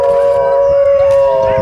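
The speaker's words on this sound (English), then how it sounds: "Wolf," A wolf howls in one loud, sustained, steady tone that holds without a break for under two seconds.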